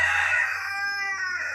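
A single rooster crow, drawn out and harmonically rich, heard clearly at moderate distance over a low steady background hum.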